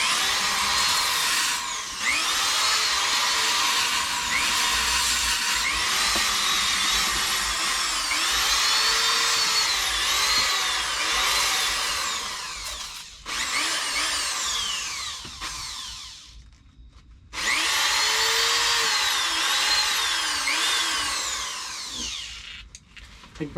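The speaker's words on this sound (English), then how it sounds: "Let me just sharpen it real quick." A woodturning lathe scraper is ground on a power sharpener, giving a loud continuous high whine with wavering tones that drops out briefly twice before starting up again.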